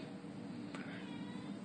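A soft cat meow, quiet and somewhat distant, with a brief click and a low constant hum underneath.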